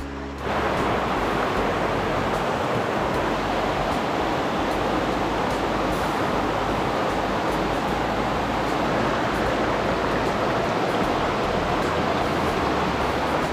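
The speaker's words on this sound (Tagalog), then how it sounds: "wala kang ibang maririnig kundi ang ingay ng ng dagasdas ng tubig" Steady, loud rushing of water from a lake or sea in a quiet natural spot, a continuous broadband wash with no breaks and no voices.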